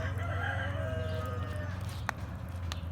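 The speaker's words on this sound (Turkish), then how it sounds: "Gördüğünüz gibi bu da bu horoz." A rooster in a backyard chicken coop crows one long, drawn-out call over a low steady hum, followed by a few faint clucks and taps.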